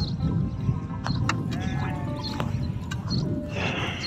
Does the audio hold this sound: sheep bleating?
yes